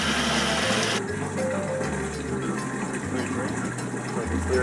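Water gushes steadily through a freshly cleared, previously clogged drain during plumbing work, a continuous rushing wash with a low pump-like hum underneath, with voices talking over it.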